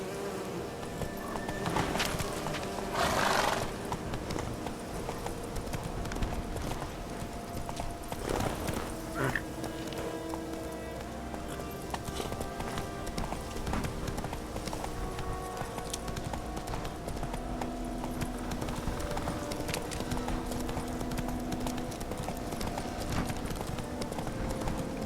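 Hoofbeats of Roach, a horse galloping in The Witcher 3, sound as steady clip-clop footfalls close by, with rustling ambience and faint buzzing insects around them.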